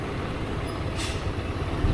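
A truck passes close by on a road during a motorcycle ride, with a brief hiss like an air brake release in the middle, over steady rumbling road and engine noise.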